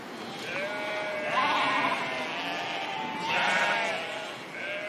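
Sheep on a farm in the Beauce region of France bleat twice in a row, fairly close and clear, with faint voices in the background.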